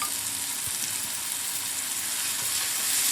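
Ground turmeric, cumin and chilli powder frying in hot oil in a pan during cooking of a Bengali tengra fish dish, producing a steady dense sizzle throughout, close and continuous with no talk.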